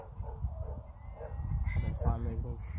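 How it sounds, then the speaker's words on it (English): Farm chickens clucking and squawking at a distance with short bird calls rising near the end, heard under ongoing background chatter and outdoor noise. "There's some chickens over there."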